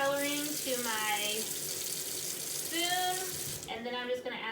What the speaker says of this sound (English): I'm just gonna add some water to my spoon